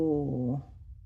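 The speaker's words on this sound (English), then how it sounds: "You can hear my cat." A pet cat gives a single short meow nearby, a clear tonal cry lasting about half a second before fading into quiet room noise.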